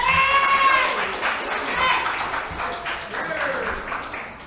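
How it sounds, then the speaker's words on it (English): An audience at a creative writing showcase breaks into a round of applause, clapping steadily with cheering voices and shouts mixed in, fading slightly toward the end. "Give her a round of applause"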